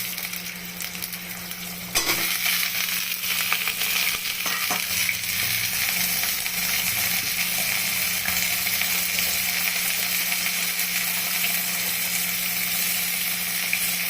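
Potatoes and a bay leaf frying in oil in a pan for egg curry, a loud steady sizzle that jumps up after a quieter start, with occasional stirring scrapes, close and continuous.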